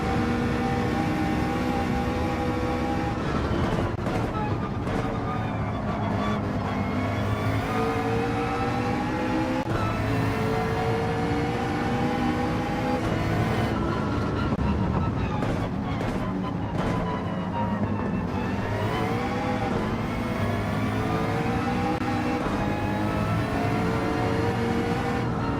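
Opponent car engine from the Gran Turismo 7 racing game, played in PSVR 2 daily races: a continuous engine drone whose pitch keeps rising and falling with gear changes, holding steady loudness throughout with no talking.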